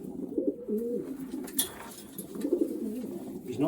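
Racing pigeons coo softly in low, rolling calls, several birds overlapping in a close, enclosed loft.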